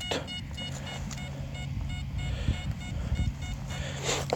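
A metal detector's steady electronic tone beeps over a continuous hum outdoors during a treasure-hunting dig, with the sensitivity set to 85; the signal stays loud and near throughout.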